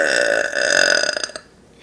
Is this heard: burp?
yes